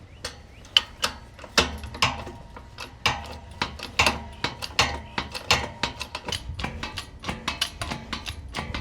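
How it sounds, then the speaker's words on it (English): A hydraulic bottle jack is pumped by hand to raise a Garvee low-profile car ramp, giving a steady run of sharp clicking, ratcheting strokes close by, getting quicker and denser toward the end. "Now we can access the bottle jack. So what we're gonna do is just jack this up a little bit."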